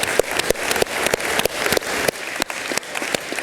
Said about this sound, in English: big round of applause last time for all the jurors and all the startups